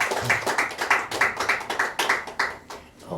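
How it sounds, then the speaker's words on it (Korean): A church congregation applauds, steady rhythmic hand claps from a crowd filling the room for about three seconds with no talking over them. "우리 하나님의 선물 우리 제자매님 영광의 박수를"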